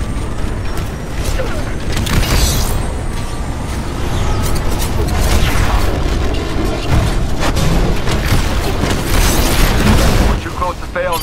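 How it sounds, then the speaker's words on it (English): Sci-fi railgun cannon in a video game spinning up and firing, a dense, loud mechanical whir with ratcheting and booming bursts throughout, mixed under game dialogue. "Spinning up the cannons for another shot. All personnel. Railgun pre-fire sequence initialized."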